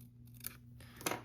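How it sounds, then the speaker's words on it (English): Two quick, quiet snips of scissors trimming card paper for a handmade shutter card, heard close up over a low background hum. "let's just trim this a little bit so it doesn't"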